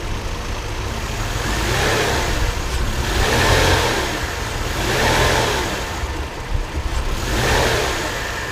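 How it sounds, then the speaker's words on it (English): A Mercedes-Benz engine, a 1997–2006 model, revs steadily in drive with the brake held, its drone swelling and easing in slow repeated waves, loud and close throughout. "you just push the gas a little bit, and you'll see the engine kind of shifting upwards."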